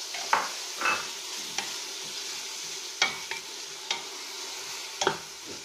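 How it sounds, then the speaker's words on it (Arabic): Zucchini and carrot sauté in a pan, a steady soft sizzle with scattered clicks and scrapes of a utensil stirring, close up and with no talking. "نخلي هاد الخضيرة تشحر"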